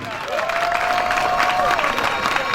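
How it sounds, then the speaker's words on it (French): Crowd at a campaign rally applauding in a continuous, even wash of clapping and cheering, with a raised voice or whistle briefly riding over the noise. "Sous vos applaudissements pour lui."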